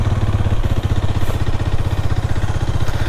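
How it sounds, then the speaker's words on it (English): A Hero Xtreme 250R motorcycle idles with a steady, loud, rapid-pulsing exhaust burble, a continuous close-up throb with fine mechanical chatter and no speech over it. "The exhaust sound is much more louder than the KTM Duke 250's ideal sound."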